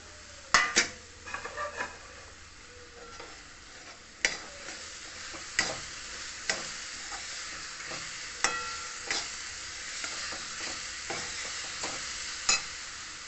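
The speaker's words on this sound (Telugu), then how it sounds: "ఇప్పుడు ఈ కొబ్బరి వేసేస్తాను ఇందులో" Grated coconut is stirred into a melted khova mixture in a pan for sweet-shop kajjikayalu, with a spoon scraping and clinking against metal in repeated sharp taps over a soft steady sizzle.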